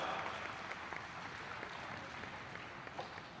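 A crowd at the Launceston Cycling Carnival applauds a cyclist who has conceded a race, with steady, moderately faint clapping that continues evenly throughout.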